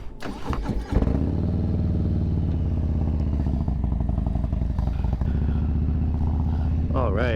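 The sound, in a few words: 2022 Harley FXLRS motorcycle setting off on test ride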